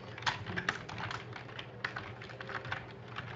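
Command lines are typed on a computer keyboard for a React Native project, a quick, uneven run of close key clicks that continues steadily and stands alone without talk.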